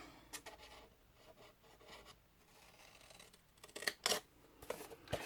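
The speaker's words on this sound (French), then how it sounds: "une fois que vous avez marqué vos 3 plis, on va découper les angles." Paper corners of a scrapbook album are cut by hand with scissors, giving soft snipping and rubbing sounds that build into a few crisp, louder cuts near the end, close and quiet, with no talk.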